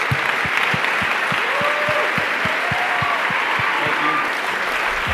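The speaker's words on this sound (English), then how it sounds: "Let's have a round of applause for Jeff Bezos" Steady applause from a large conference audience, dense and sustained clapping throughout with no pauses.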